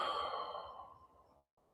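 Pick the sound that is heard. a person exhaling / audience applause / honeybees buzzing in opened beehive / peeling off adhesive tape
a person exhaling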